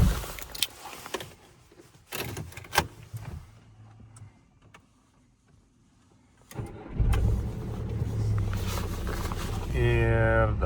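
A car's engine starts after a quiet stretch of small handling noises, then settles into a steady idle before driving to the Panevėžys car market in Lithuania.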